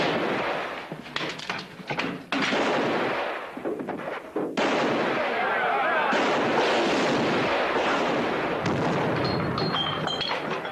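Repeated gunshots and heavy bursts of gunfire in a western film shootout in a town overrun by criminals, loud and dense throughout with brief gaps, partly mixed with shouting voices.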